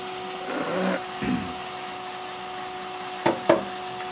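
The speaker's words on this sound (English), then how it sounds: "Have to vacuum a patio." A vacuum cleaner hums steadily on a patio at moderate distance, its tone constant throughout while a few louder wooden knocks and scrapes sound nearby.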